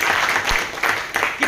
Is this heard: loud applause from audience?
yes